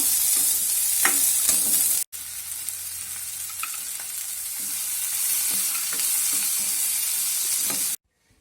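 Continuous loud sizzling of cashews and spices frying in a hot pan, with occasional spatula scrapes and stirring, briefly cut twice before stopping abruptly.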